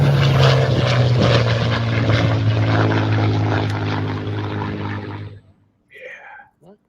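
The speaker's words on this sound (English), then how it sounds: "It's time for a twilight flight with the Night Vapor." Electric propeller of a Night Vapor RC plane flying at twilight, a loud steady buzzing drone close by that fades out near the end, with brief faint voices after it stops.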